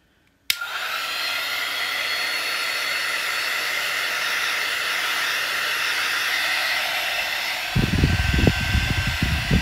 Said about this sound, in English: So I use a heat gun.